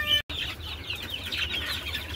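Month-and-a-half-old golden Misri chicks cheep in a steady, high chorus close by, with a brief drop-out near the start and a low background hum underneath.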